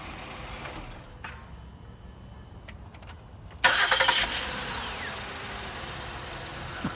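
A 2009 Ford Flex starts up after its starter was replaced, with a short quick crank and then the engine catching and settling into a steady idle, close and fairly loud after a quiet start.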